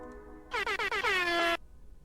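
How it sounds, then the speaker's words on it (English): A truck air horn in a Unity video game prototype blares through computer speakers, first in a few short choppy bursts and then in one sustained blast, turned fairly quiet with nothing else over it. "Someone hit my air horns."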